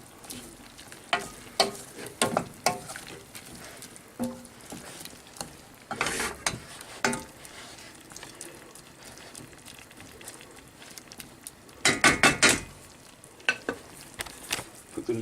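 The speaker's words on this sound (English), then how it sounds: "And give all that a good stir, and then we're going to leave that to reduce again whilst the rice is cooking." A mushroom and kalettes curry sizzles faintly in a pan while a spoon stirs and scrapes it in scattered knocks, with a louder clattering flurry near the end.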